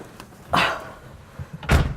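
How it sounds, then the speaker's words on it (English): Doors of a Mercedes-Benz Concept EQ electric car opening, heard as two separate broadband thuds about a second apart, reasonably close and fairly loud, with no talking. "So you have touch slider for opening the doors."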